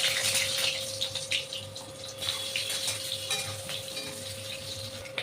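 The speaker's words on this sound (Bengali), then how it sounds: "এবার কড়াইতে সামান্য তেল দিয়ে দেবো। তেলে আলুগুলো ভেজে নেব।" Potatoes frying in a little oil in a wok, a steady broadband sizzle and crackle that holds at an even level throughout, with no voices.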